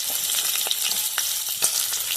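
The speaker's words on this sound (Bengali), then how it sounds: "চিংড়ি মাছটা দিয়ে দিচ্ছি। চিংড়ি মাছটা ভেজে নেব।" Shrimp frying in a pan, rubbed with salt and turmeric, crackling as a steady close sizzle with small pops and spatters throughout and no voices.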